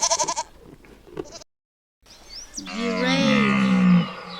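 A goat gives a long, loud, quavering bleat at close range, preceded by shorter bleating calls and a short pause.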